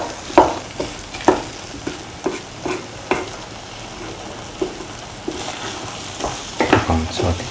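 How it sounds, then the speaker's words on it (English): Plantain and shallots sizzle in a pan for a plantain cashew stir fry, stirred with a regular rhythm of loud scraping strokes over a continuous frying hiss, close and without talk. "Mix the plantain and the shallots with this mixture. Thoroughly saute and mix."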